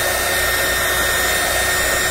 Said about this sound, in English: So we're going to use our heat gun.